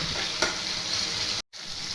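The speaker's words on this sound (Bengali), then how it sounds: "দিয়ে ভালো করে টমেটোটাকে কষব" Chopped tomato with a bay leaf being stir-fried in a pan, a loud continuous close sizzle with a single stir knock, cutting out to silence briefly before the sizzle resumes.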